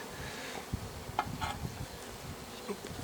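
Honeybees buzz softly inside a log hive in a low, continuous drone, with occasional faint knocks and brief higher hums from individual insects nearby.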